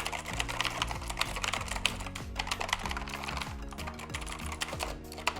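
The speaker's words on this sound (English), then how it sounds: "Very nice keyboard. Sounds very good." Rapid, steady clacking of keys typed on a Razer BlackWidow V3 mechanical keyboard, close and crisp with dense overlapping strokes and no talking.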